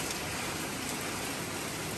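Steady rain pours down at a hillside stay in Vagamon, a dense, even hiss that holds constant throughout with no speech over it.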